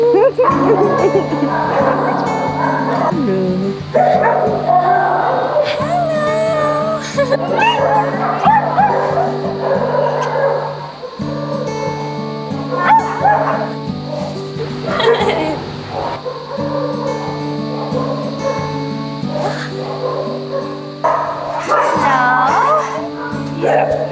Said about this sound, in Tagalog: kapakita ko muna sa inyo yung mga dogs namin dito sa shelter